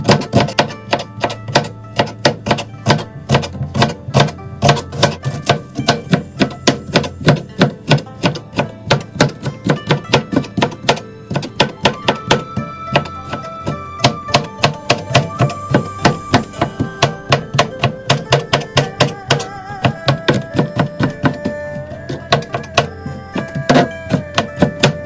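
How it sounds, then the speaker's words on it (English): Knife finely chopping an onion on a cutting board for a tomato-sauce mackerel dish: fast, steady, crisp knocks in a continuous close rhythm, loud and alone with no talk. "the first thing you do in step number 1 is to finely cut the onion"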